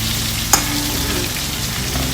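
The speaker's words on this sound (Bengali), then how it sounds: "আলুটাও কিন্তু বেশ সুন্দর লাল লাল করে ভেজে নেব" Potatoes fry in a pan with a steady, close sizzle and crackle, broken by one sharp clack near the middle and another at the very end; no one speaks.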